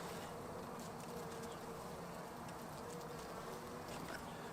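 Dense, steady buzzing of many honeybees close by in an open hive, a continuous swarming hum with no pauses.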